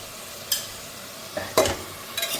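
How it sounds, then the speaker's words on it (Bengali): Vegetables fry in ghee in a pan while a utensil stirs them, giving a faint continuous sizzle broken by a few sharp scraping strokes near the middle and end, with no speech. "ভালো করে রেখে নাড়ব ভালো করে একটু ভেজে নেব যাতে সবজিটা ভালো লাগে খেতে"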